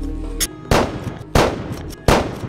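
Three loud, separate rifle shots crack out at even intervals during shooting practice in a war film, each followed by a short decaying echo, with no talk over them.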